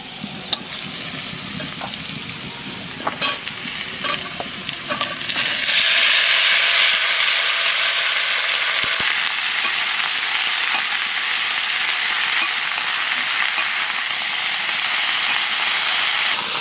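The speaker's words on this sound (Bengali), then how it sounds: "সজনে ডাঁটা দিয়ে একটু নাড়াচাড়া দিয়ে নিয়েছি" Drumsticks (moringa pods) with potato and carrot frying and being stirred in a pan: a steady broadband sizzle with scattered stirring scrapes, jumping to a louder, fuller hiss about six seconds in as the pieces hit the hot oil.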